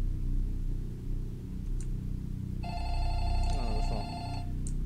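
A telephone rings inside a video game, a bright electronic ring that starts partway through and repeats in short bursts over a steady low background drone.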